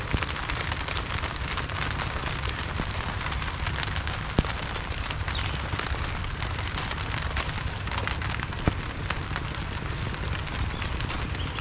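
Steady rain pours down in a dense, continuous hiss, with occasional louder drops tapping close by; no voices.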